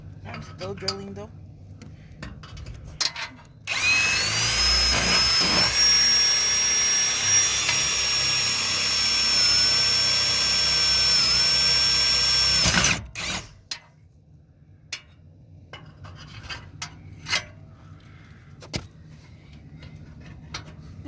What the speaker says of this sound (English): I'm still drilling though